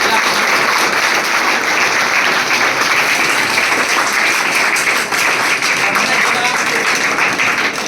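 Sustained, loud applause from an audience at a coaching-class celebration in Beawar honoring students selected in the REET Level-1 exam, dense steady clapping filling the whole stretch without pause.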